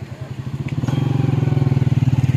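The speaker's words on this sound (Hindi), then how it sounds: "मोटरसाइकिल आ रही है।" A motorcycle approaches, its engine puttering in a fast, regular beat that grows louder and closer over a couple of seconds.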